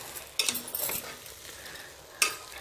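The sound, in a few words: stirring jackfruit brown rice biryani with coriander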